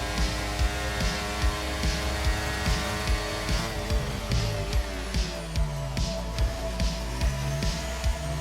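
A Formula 1 car in the F1 23 video game runs a full-speed lap of Abu Dhabi, its engine droning steadily at high revs with rhythmic shifts and pulses, loud and continuous throughout.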